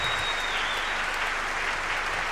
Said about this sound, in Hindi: मैं चाहूंगा एक बार आप अपने लिए जरूर तालियां बजाएं